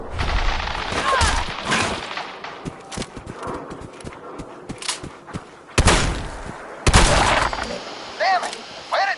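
Bursts of gunfire in the video game Fallout 4, sharp loud cracks and rapid volleys spread unevenly across the stretch, with game voices and other effects in between.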